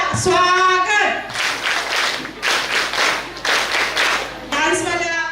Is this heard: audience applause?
yes